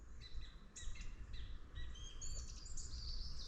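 A song thrush sings a series of varied, high, clear phrases outdoors, moderately close, over a soft background rumble.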